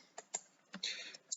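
Fingers tap on a computer keyboard in a few quick, quiet, close keystrokes with short pauses between them, in an otherwise silent room.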